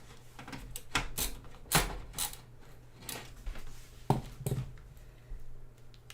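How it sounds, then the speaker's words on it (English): An LTT screwdriver drives screws during a PC build, giving irregular close mechanical clicks and ratcheting creaks, with a few louder snaps over a steady low hum and no talking. "This is the LTT screwdriver."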